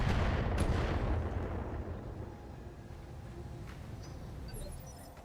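BattleTech mechs fire their weapons with a heavy booming blast that rolls into a long, fading rumble. Faint further shots and battle noise follow.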